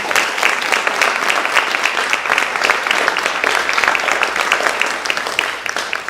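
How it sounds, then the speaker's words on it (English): Audience applause at a teacher of the year reception and recognition event, a sustained burst of many hands clapping that stays steady and loud throughout before easing slightly at the end. "so please, let's give them a round of applause."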